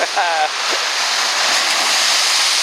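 Steady broadband roar of ocean surf washing against an old breakwater of big cement chunks, continuous and close, with a brief voice near the start.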